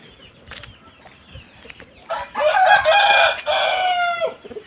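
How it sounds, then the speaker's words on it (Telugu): Game roosters kept for cockfighting crow loudly and close by, a long harmonic cock-a-doodle-doo rising after softer clucks and rustling, with a second crow overlapping near the end; no talking. "తయారీ కోళ్ళు ఫుల్ కండిషన్లో ఉంటాయి, రెడీ టు ఫైట్."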